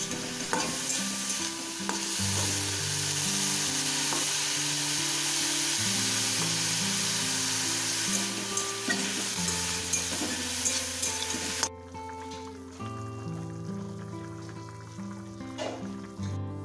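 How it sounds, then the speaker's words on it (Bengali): Kalai shak greens fry with onion in a pan, a loud, continuous sizzle with steady stirring scrapes throughout, over a tonal background. "এখানে আমি পেঁয়াজ কলিয়ে কড়াই শাকের ভাজা করেছি"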